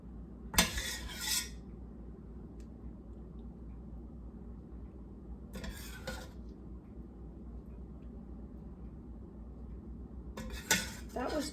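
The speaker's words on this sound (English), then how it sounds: "gonna put some more sauce on top of that" Spaghetti sauce spooned over layered pizza spaghetti from two 28-ounce jars: a few brief scraping clinks of a spoon against a pan, separated by long quiet stretches, close by and with no talking.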